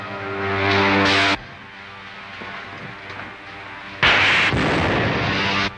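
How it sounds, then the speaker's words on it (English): Blaster fire aimed at a spaceship in the 1939 Buck Rogers serial: two loud, sustained roaring bursts with abrupt starts and stops, separated by a quieter rumbling stretch, alone with no voices. "Fire a blast into the tail surface as I level out."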